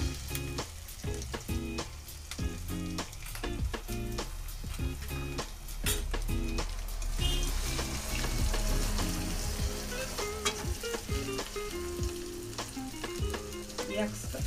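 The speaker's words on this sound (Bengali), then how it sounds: "পেঁয়াজটা ভাজা ভাজা মতো হয়ে গেছে" Onions sizzle as they fry in a pan with a little salt, making a dense, continuous crackle full of quick spitting pops, steady and close throughout with no talk.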